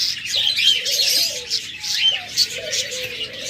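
Caged pet birds for sale, such as budgerigars, cockatiels and lovebirds, chirp and twitter busily, with short whistled calls standing out over a constant chatter. The birds are close and lively, with no talking.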